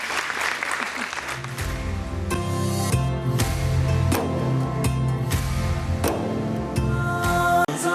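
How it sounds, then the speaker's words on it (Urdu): Studio audience applause for the team of a Ramadan iftar television broadcast, a steady, loud wash of clapping lasting throughout, with background music tones running underneath. "عہد رمضان کی ٹیم کے لیے تالیاں ایک دفعہ ہو جائے, اور ان تالیوں کی بوچھاڑ میں ہم ایک بریک لیں گے."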